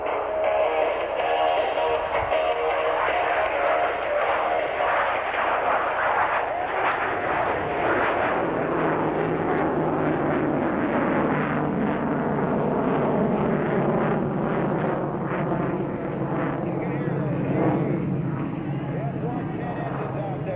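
A 1993 F-14B Tomcat jet takes off at the Dayton Air Show with a loud, sustained engine roar. An announcer talks over the noise throughout.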